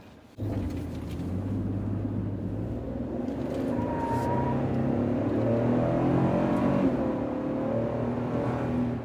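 A 2022 Toyota Tundra SR5 TRD Sport pickup floored from low speed, its engine note rising in a steady, sustained roar that swells over several seconds, heard from inside the cab with no talking.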